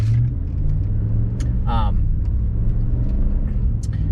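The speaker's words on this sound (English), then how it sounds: "come on, car, get going" A car engine runs in a steady low rumble from inside the vehicle, constant throughout with a brief higher whine midway.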